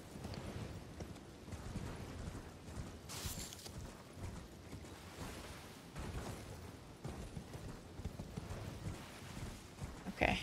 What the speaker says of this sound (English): Okay, that's his horse.